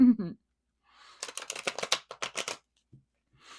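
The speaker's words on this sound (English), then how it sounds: "As I'm shuffling the tarot" Tarot cards riffle in a rapid burst of papery flicks and snaps lasting about a second and a half, close up, followed by a few faint taps, with a brief voice sound at the start.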